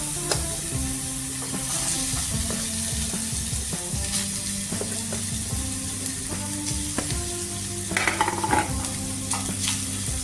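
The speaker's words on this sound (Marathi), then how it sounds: "तेल गरम करायला ठेवलं होतं, त्यामध्ये आता आपण हे 2-3 मिरच्या वाटून घेतलेल्या आहेत, ते टाकून घेऊ। थोडंसं भाजल्यानंतर आपण यामध्ये आलू टाकून घेऊ।" Potatoes and ground green chillies frying in hot oil in a pan for an Uttar Pradesh aloo chaat katori, a dense continuous sizzle with scattered clinks of a spoon stirring against the metal pan.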